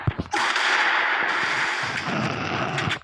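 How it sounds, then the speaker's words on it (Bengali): Rapid video-game gunfire ending in a headshot, a dense, loud burst of shots sustained for about three seconds with no talk over it. "মিস্টার টিবলার ভাইকে হেডশট মেরে দিলাম এই কাট"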